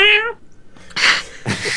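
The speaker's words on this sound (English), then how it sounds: "Cat." A cat meows once, a short harmonic cry up close at the start, followed by rustling and breathy noise bursts.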